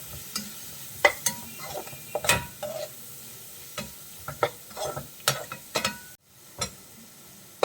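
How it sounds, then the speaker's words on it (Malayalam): Chilli gobi, cauliflower pieces coated with a little chilli powder, sautéed in a pan, with repeated sharp spatula scrapes and clanks in an irregular rhythm over continuous sizzling, close and without speech. "അതും കൂടി ചേർത്ത് ഒന്ന് വഴറ്റിയെടുക്കാം."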